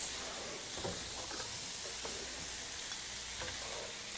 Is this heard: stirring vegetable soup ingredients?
yes